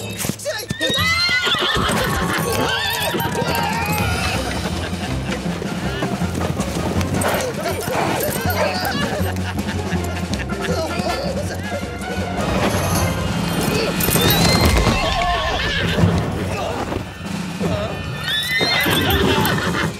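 Cartoon horses whinny and gallop with clip-clop hooves amid a crashing Zorro ambush, the commotion dense and loud throughout, with shouting voices mixed in.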